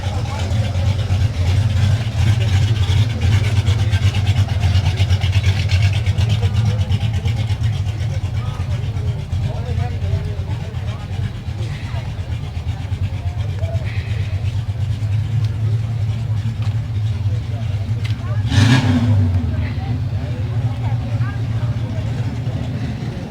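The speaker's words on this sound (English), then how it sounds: "A 54 Chevy Bel Air." A 1954 Chevy Bel Air at a cruise night car show in Whittier, its engine a steady low rumble throughout under constant crowd chatter and outdoor background noise, with a brief louder burst near the end.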